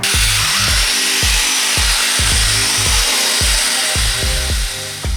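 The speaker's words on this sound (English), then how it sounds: "take a drill brush" A drill brush scrubs a carpet stain inside a car, a loud continuous motor whir with a rhythmic, repeated grinding pulse as the bristles work back and forth over the fibres.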